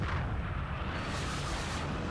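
Explosion in the MechWarrior 3 video game, heard as a steady, loud, rumbling roar of blast and combat noise across the whole clip, without talking.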